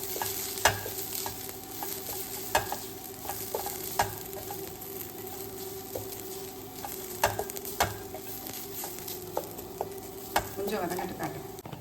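Coconut, green chili, cumin and garlic sauté in a pan, a steady sizzle broken by repeated sharp scrapes and taps of a spoon stirring the mix.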